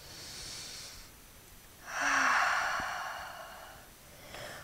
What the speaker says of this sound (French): On prend le temps de respirer ici.